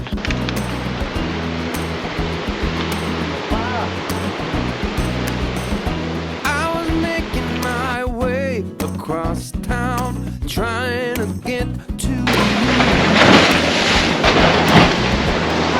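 Ocean waves surge and crash into Thunder Hole on the rocky coast of Acadia National Park, a continuous loud roar of surf with a heavier rushing swell toward the end and no speech.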